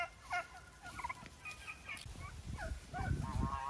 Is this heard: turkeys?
yes